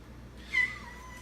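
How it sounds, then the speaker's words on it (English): A cat lets out one short, fairly faint meow indoors over a quiet room background. "Both cats decided to interrupt this video."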